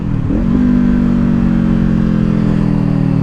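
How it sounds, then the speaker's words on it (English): A 2024 Kawasaki Ninja 500 motorcycle downshifting as it approaches a traffic light, a quick engine blip settling into a steady close mid-pitched hum. "We're going to downshift until we get into second"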